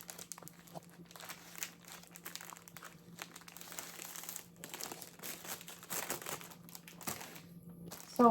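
Items being folded for packing give a steady run of soft, close crinkling and rustling, like plastic or paper, that rises and falls for several seconds.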